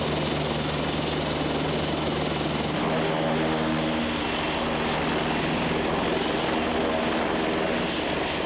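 A Tiger attack helicopter, fire support version with a gun turret under the nose, flies with a steady, loud rotor and turbine roar that fills the whole stretch continuously.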